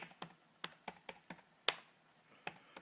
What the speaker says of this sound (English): Go over here to your computer and type in sacred geometry.